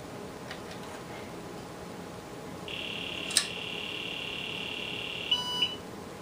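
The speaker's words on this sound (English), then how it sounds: "that beep is designed actually to interrupt and reset" An IBM PS/2 Model 25 computer gives a single steady electronic reset beep, a clear sustained tone lasting a few seconds before cutting off with a short stuttering chirp, over a quiet background.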